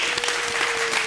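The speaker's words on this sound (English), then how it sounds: "give them a round of applause for all the moms here today" Brief burst of congregational applause honoring mothers during a church service, loud and close, dense clapping over a steady room tone.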